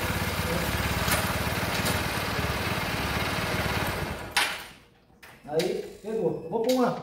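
A cold motorcycle engine, push-started by hand after its battery died, runs loudly at a steady putter, then cuts out abruptly as someone speaks close by.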